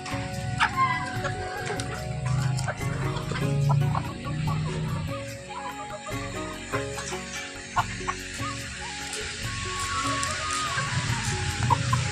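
A flock of Sonali chickens clucks steadily up close while eating onion, with soft pecking and scattered taps against a busy barnyard background.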